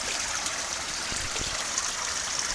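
Creek water flows past a spot where two fallen trees form a step in the streambed, a steady, close rushing hiss that continues without a break.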